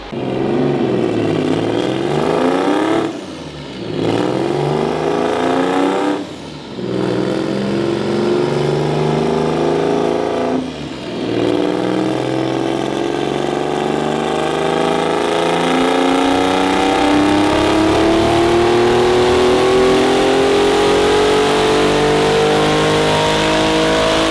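A turbocharged EG33 Subaru WRX STI revs hard on a dyno, sweeping up through the rpm range several times with brief drops between pulls and then holding a long, loud climb at high revs, close and alone.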